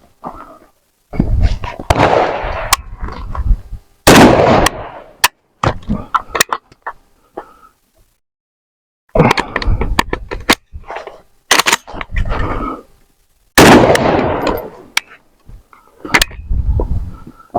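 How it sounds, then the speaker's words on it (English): AK-47 rifle firing during a tactical reload drill outdoors: loud sharp reports in several bursts separated by short quiet gaps and a longer pause, with rattling handling noise between shots. "you'll fire your one round, fire again, make sure you get that audible click, and then work your tack reload"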